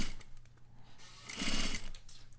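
A sewing machine stitches steadily along a long curved seam while a facing is sewn, running at a quiet, even pace with a brief louder burst near the end.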